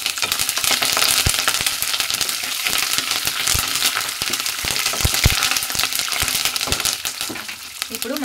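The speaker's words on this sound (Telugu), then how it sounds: "సో లైట్గా వేపేసుకున్న తర్వాత ఒక గుప్పెడు కరివేపాకు" A handful of curry leaves frying in hot oil for temple-style pulihore, giving a steady, close, busy sizzle and crackle with sharp pops scattered throughout.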